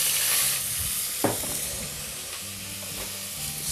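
Onion and garlic frying in hot fat left from browning osso buco, a steady close sizzle and hiss with a brief stir or scrape partway through, no voices.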